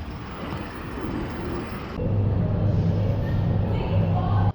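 A car passes on a road at night in Kuwait, its engine rumble swelling into a loud, close, steady drone over constant traffic noise.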